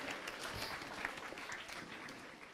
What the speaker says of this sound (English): Let's have a round of applause for sir at the back.